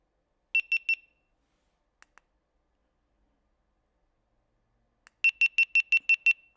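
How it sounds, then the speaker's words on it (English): A metal detector gives short electronic beeps: a quick burst of three, a couple of faint blips, then a longer run of rapid beeps. "One thing I don't like is they beep different than this one does"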